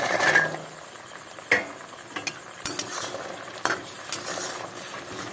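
Gaja pastries tipped into boiling sugar syrup in a pan, an initial hiss followed by a series of sharp clinks, scrapes and stirring knocks, close and moderately loud with no voices.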